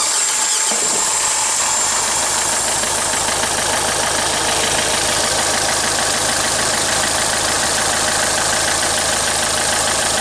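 A Renault diesel engine, fitted with injectors under diagnosis, fires up and settles into a steady, loud idle that carries on without a break. It sits close by in a workshop setting, with no one talking over it.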